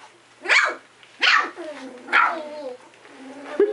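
Yips and barks from a four-week-old English Cream Golden Retriever puppy: three short, close, lively bursts about a second apart, each trailing off into softer whining tones, with no talk over them.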